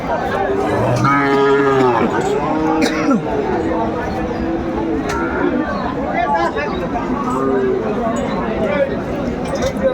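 Sahiwal cattle mooing at a livestock market in Chandpur, several long, low moos close by over constant crowd chatter and people talking nearby.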